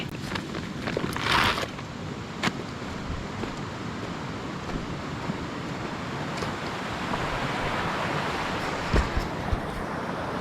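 Water splashing as ore is washed in a river, a steady broadband rush of moving water with a few brief sharper splashes, close and fairly loud with no talking.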